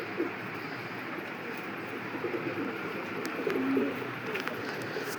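Fancy pigeons on a pigeon farm give soft, low cooing calls over a constant background hum, with a few brief chirps and rustles nearby.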